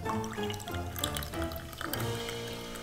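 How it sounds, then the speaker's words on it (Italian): Olive brine dripping and trickling into a drink beside an olive, a close, continuous liquid patter with small splashes lasting a few seconds. "E dai, facciamo cadere anche un po' di salamoia."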